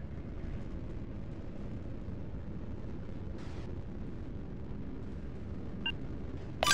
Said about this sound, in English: Launching missiles.